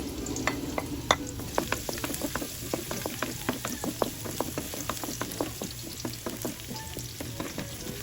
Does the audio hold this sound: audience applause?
no